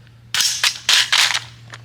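A Radical Firearms RF-15 rifle dropped buttstock-first onto gravel lands with several sharp, crunching impacts in quick succession, loud and close, followed by a faint rattle as it settles.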